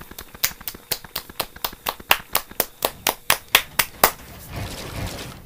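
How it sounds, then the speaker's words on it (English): A pair of hands claps about fifteen times in a steady, evenly spaced rhythm, close and crisp, before stopping and leaving a soft background rumble. "Clap it up for the Mavacon."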